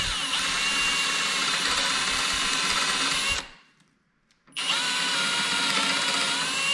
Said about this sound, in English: So now I can finish drilling these holes in.